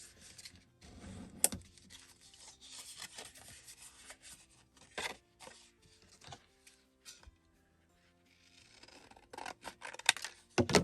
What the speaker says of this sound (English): I'm going to fold this over because that will give me a straight line that I can cut